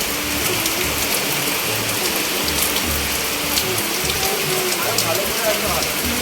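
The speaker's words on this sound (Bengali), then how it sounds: "এ মা কি জোর বৃষ্টি হচ্ছে" Heavy rain pours down steadily outside a home, a dense continuous hiss of drops on surfaces throughout, with faint voices now and then beneath the downpour.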